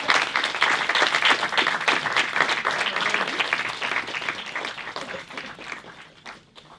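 Applause from a church congregation fills the space, steady dense clapping that slowly thins and fades toward the end.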